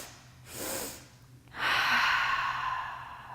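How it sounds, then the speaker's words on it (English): Breath is drawn in two audible parts, a soft first inhale followed by a pause and then a longer, louder second sniffing inhale, close to the microphone, with no speech. "breathing in 2 parts on the inhale."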